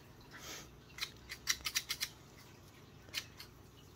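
Game processing scissors from an 11-piece kit being opened and handled, giving a run of crisp metallic clicks and snips, about six quick ones close together, then a couple more after a pause, close and fairly loud.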